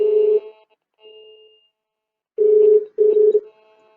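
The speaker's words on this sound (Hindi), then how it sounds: "फोन पहुंच रहा है, फोन नहीं पिकअप हो पा रहा है" A ringback tone on a phone call that goes unanswered pulses in short repeated electronic beeps, clear and close with gaps between the rings.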